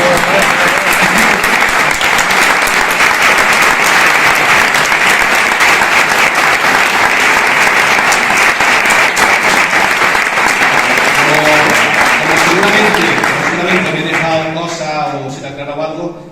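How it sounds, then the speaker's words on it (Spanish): Loud, dense audience applause after a parish talk in Ciudad Real carries on steadily for many seconds, then thins out and fades as voices and chatter rise near the end. "un aplauso, ¿no? Por lo menos."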